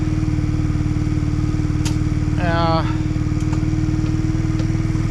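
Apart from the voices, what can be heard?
motorcycle engine running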